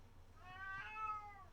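A male house cat gives a single drawn-out, rising-and-falling meow at moderate volume, close by and alone over low room hum.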